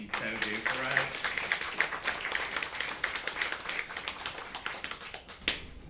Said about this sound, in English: Can we give a round of applause for all that Debbie and Co do for us?